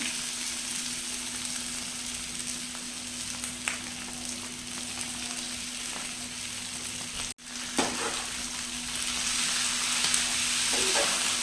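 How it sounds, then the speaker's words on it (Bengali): Hakka noodles stir-fry in a hot pan with a steady, close hiss and sizzle, broken by brief stirring scrapes and one short pause, and no talking. "এবার আমি হাক্কাটা দিয়ে দিচ্ছি।"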